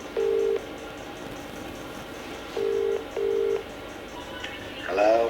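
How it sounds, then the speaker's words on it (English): Three short steady dialing tones sound as a telephone is dialed to make a call, with a background hum and a brief chirpy electronic sound at the end. "Right, let's make a phone call."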